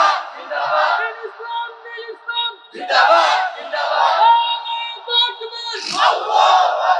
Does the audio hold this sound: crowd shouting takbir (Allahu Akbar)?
yes